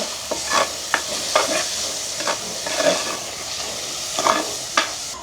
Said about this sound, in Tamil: இந்த வெங்காயம் பச்சை மிளகாய் உள்ளி எல்லாம் நல்லா வதங்க வரும் எங்களுக்கு